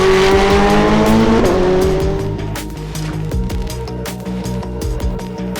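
McLaren, Porsche and Ferrari race cars, including a Ferrari 488 Challenge, running on a track at a hypercar event. A loud engine roars close by and then pulls away, with tire squeal and other cars passing.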